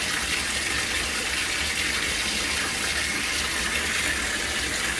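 Water gushes steadily from a tap into a filling bathtub, a loud, continuous splashing rush that holds even for the whole stretch with no voices.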